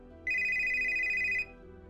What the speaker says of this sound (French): Et là, mon téléphone, il a commencé à sonner.